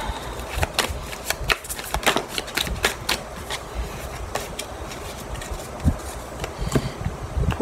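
Tarot cards shuffled and cut by hand, giving a steady run of crisp riffling flutters and sharp slaps, close and fairly loud with brief pauses between bursts.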